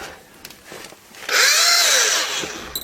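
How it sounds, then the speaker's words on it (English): A hammer drill, roughly 20 years old, revs up loud and close with a rising then falling whine, sustained high buzzing for over a second after quieter clicks and handling noises. "It is a hammer drill as well"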